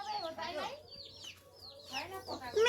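Chickens and chicks cluck and peep close by in a rural morning yard, with thin, high chirps and fuller clucks that rise and fall over two bursts of nearby talk.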